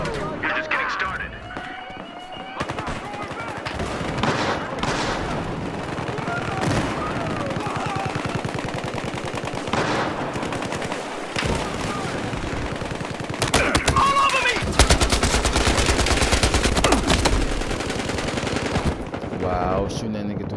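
Rapid automatic gunfire in Battlefield Hardline, shots fired through a window, loud and sustained in dense bursts with heavier volleys near the end, with shouting voices over the shooting.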